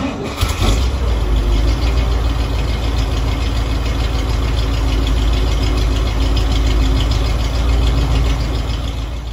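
A 1961 Cadillac Sedan DeVille engine idles close by, a steady low rumble running evenly throughout after a brief clatter at the start.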